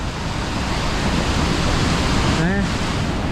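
A waterfall in Albania roars as a steady, broadband rush of water, loud and unbroken, with a voice briefly heard over it near the end.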